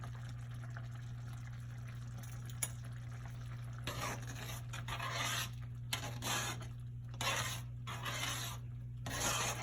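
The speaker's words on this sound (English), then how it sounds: "I'm just constantly stirring these grits just to make sure they don't get any lumps." Grits stirred in a pot make soft, intermittent scraping and sloshing strokes, close and fairly quiet, over a steady low hum.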